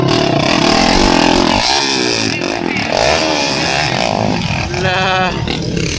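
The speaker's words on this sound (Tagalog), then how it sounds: "Natanggal ang tambotso ni Anton. Bura-bura ng motor ni Anton" A racing motorcycle with its exhaust pipe detached revs loudly and raggedly at a race in Pagalungan, Maguindanao del Sur, the raw engine note rising and falling over crowd noise and shouting.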